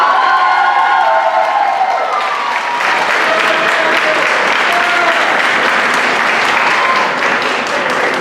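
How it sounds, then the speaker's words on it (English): A high school choir concert audience breaks into sustained applause for the choir librarian, with cheers and whoops rising out of a dense, steady wall of clapping from start to finish. "Can we please give a round of applause to Isabella?"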